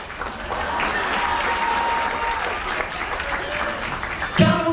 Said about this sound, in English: Give a huge round of applause to each and every single one of these hard-working.